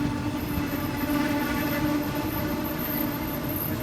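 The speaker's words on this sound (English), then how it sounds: "Somewhere on this extremely long train from Bangkok going to" A very long passenger train from Bangkok to Nong Khai with old-fashioned wooden seats rolls along, a close, steady rumble and rattle of the carriages heard from inside with no talking.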